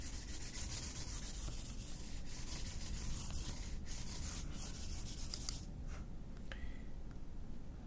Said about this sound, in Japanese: この後に600番のサンドペーパーで表面をこうやってさらに滑らかにしていきます。